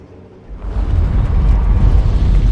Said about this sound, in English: Those explosions exposed some more bloodstones.